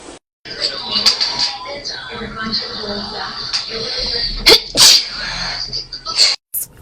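A woman sneezes several times in quick bursts, loud and close, between stretches of chatter and background noise in a busy indoor space.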